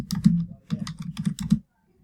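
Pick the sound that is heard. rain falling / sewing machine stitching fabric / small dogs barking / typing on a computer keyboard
typing on a computer keyboard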